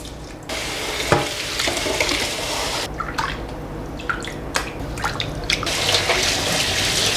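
Sesame seeds being washed in water in a fine mesh sieve, giving steady wet swishing and stirring with scattered drips and splashes, close and continuous with no talk.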